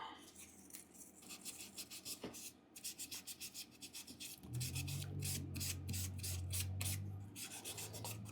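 A wooden tobacco pipe is hand-sanded with rapid, rhythmic rasping strokes, close and fairly quiet, with a low hum entering partway through and no talking.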